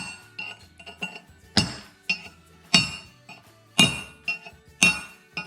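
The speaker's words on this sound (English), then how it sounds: "A lot of times I like to use a cold chisel. You can just tap it off." A cold chisel taps slag off a fresh weld on a steel bracket for a Land Rover Series 1 V8, giving sharp metallic clinks in an irregular rhythm with several loud ringing strikes among lighter taps, close up and without talk.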